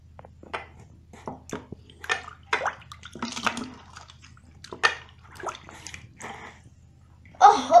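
Water poured over hair in a bath to rinse out shampoo, a series of separate near splashes and trickles with quiet gaps between them and a louder gush at the end.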